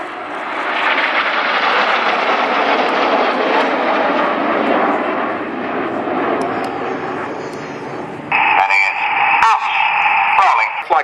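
Red Arrows jets flying a display at the Duxford Battle of Britain air show in 2010, a loud sustained roar that rises and falls as they pass, with an announcer talking over a public address system throughout.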